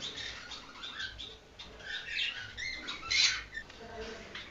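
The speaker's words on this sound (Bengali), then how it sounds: "এখানে এক পেয়ার গ্রিন ফিশার আছে" A caged pair of greenfinches gives short high chirps and twitters over a low background murmur, the calls irregular and fairly close, with faint voices around.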